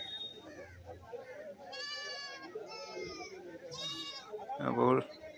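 Goats bleat in a busy livestock market, several wavering calls at about 2 and 4 seconds and a louder, closer bleat near the end, over a background of crowd chatter.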